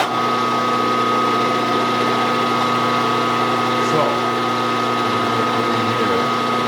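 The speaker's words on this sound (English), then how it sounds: "I have to run my spindle in reverse because that's the way I put the blade on." A small machine spindle hums steadily in reverse with a saw blade mounted, a constant close mechanical drone with a slight vibration throughout.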